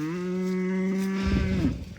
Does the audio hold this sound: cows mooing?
yes